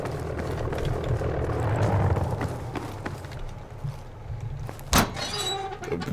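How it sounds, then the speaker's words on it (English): Aircraft engine drone in a Battlefield V battle, a steady low roar building over several seconds with a sharp louder burst near the end, amid busy combat noise. "That's the other plane's coming in."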